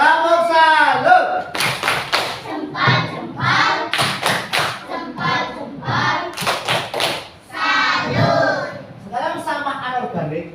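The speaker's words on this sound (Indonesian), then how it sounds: "Tepuk salut." A group of children doing a rhythmic salute clap (tepuk salut): sharp, evenly patterned hand claps mixed with loud chanted voices, close and lively, in short bursts across the whole stretch.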